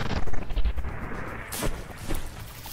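Naval cannon fire during a From The Depths battleship tournament battle between warships Ngome and Panamax Refit, heard as a loud booming blast early on followed by rumbling bursts and a couple of sharper reports, with no talk.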